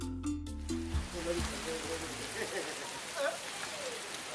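Steady rain falls outdoors as a continuous hiss of drops on surfaces, with a brief burst of talk and a low tonal sound near the start before the rain carries on alone.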